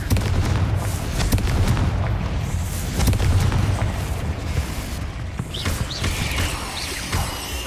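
Confringo blasting spell going off in Hogwarts Legacy, a dense run of deep booming explosions and rumbling impacts filling the whole stretch at steady loudness, with crackling game effects and no talk.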